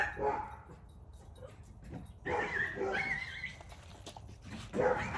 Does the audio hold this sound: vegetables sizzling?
no